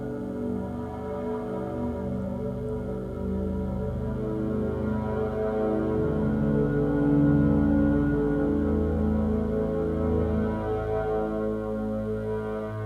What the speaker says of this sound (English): it comes up with a mode which generates some lovely string chords, and you can hear those here